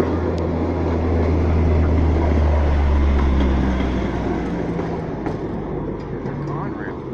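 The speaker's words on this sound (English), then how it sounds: "That's a Conrail horn." A Conrail locomotive horn on the Wilmington and Western Railroad sounds a sustained low chord for a few seconds over rumbling rail noise, then fades out while the background continues.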